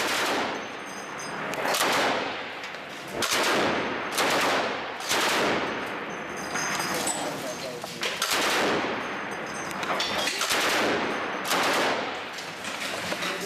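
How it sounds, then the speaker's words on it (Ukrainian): Repeated bursts of machine-gun fire in Donetsk near the airport, loud and sharp, in long rattling volleys separated by brief pauses, with echoing reports in the background. "На ньому пореченко разом із бойовиками стріляє у Донецьку з бік аеропорту"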